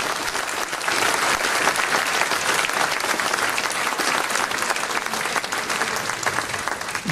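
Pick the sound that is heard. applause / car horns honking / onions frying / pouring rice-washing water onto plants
applause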